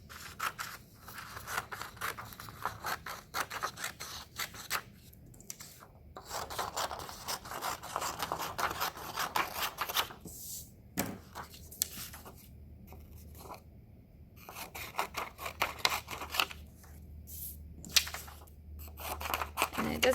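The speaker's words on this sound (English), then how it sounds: "I'm gonna cut my paper into little squares." Scissors snip paper into small squares in a series of crisp, uneven cuts and rustles, close and fairly quiet, with occasional soft background voices.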